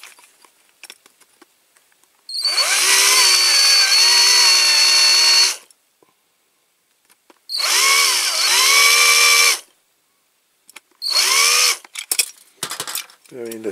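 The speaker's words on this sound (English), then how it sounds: "Very little drilling." Three bursts of a power drill whirring while restoring a Corgi die-cast refuse truck model, the first long, the second shorter, the third brief, with quiet gaps and small clicks between.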